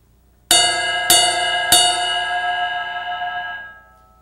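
A drumset cymbal is struck on its bell three times in steady succession, each bright, ringing ping layered over a long, shimmering sustain that slowly fades out, close and alone.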